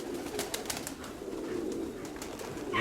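A pigeon coos, low soft rolling notes under steady outdoor hum, moderately near, with a brief rustle at the end.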